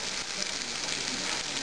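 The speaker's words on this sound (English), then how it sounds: "Ooh, can you hear the sizzle?" Steady, dense sizzling of fish frying in hot oil in a pan, close by and continuous, with no voices.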